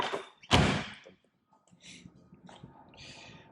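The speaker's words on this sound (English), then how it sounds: "here the door shuts nicely" A single solid door of a restored 1956 Porsche 356 Speedster slams shut with a heavy thunk, followed by quiet rustling and faint handling noises.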